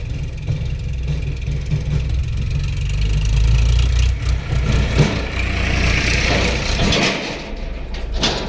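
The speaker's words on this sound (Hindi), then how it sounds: "यहीं आ रहा है ये ट्रैक्टर" A tractor engine approaching along a road in rural Madhya Pradesh, its low diesel rumble growing louder midway and then easing off, with no speech.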